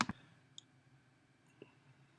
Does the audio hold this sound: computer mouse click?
yes